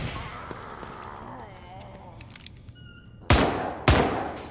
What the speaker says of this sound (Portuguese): Acerta o tiro, Sebastião.